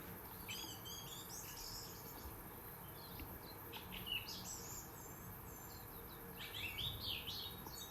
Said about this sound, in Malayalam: പക്ഷികളുടെ ഒരു കളകള ശബ്ദമുണ്ടല്ലോ